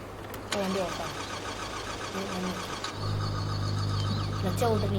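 Honda car engine in the Car Parking Multiplayer 2 video game cranking and catching, then settling into a steady idle hum, with short electronic beeps and a person talking over it.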